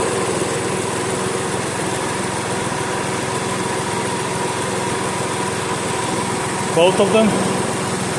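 A vacuum pump runs steadily on a vehicle's AC system, drawing out the remaining freon through a hose, as a constant close mechanical drone with a brief voice speaking over it near the end.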